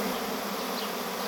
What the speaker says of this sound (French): les abeilles ça bourre un peu pour rentrer dedans